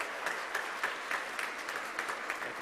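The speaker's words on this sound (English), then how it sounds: "give him a round of applause" An audience at a Salvation Army holiday luncheon applauds a former San Francisco mayor being introduced, dense steady clapping heard from a distance in a large room.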